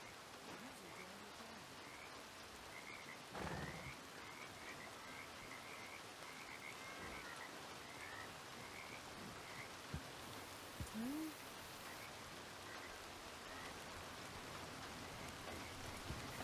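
Steady rain falls in a Wild West roleplay video game, a constant broadband hiss that lasts the whole time. Frog-like croaks and a few brief chirps sound faintly over it, and no voices are heard.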